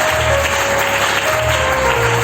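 Applause from a church congregation, a dense continuous clapping that holds steady and loud throughout, with a faint tone running beneath it.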